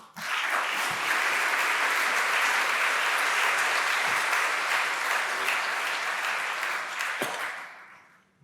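An audience at a Sydney Ideas talk applauds to welcome an elder, Uncle Chick, to the stage. Dense, sustained clapping fills the hall for about eight seconds before tapering off.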